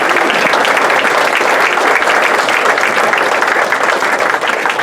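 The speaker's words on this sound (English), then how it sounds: "Okay, so I'll take some polite applause" Polite applause from an audience at a political town hall meeting in Salem, New Hampshire, steady and dense throughout, a full crowd clapping at close range with no talk over it.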